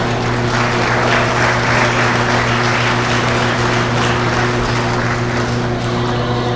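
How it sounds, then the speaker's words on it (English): Audience applause at a 2022 sheep show, steady clapping sustained throughout over a constant low engine-like hum, with no speech over it. "Let's go ahead and give these guys another round of applause."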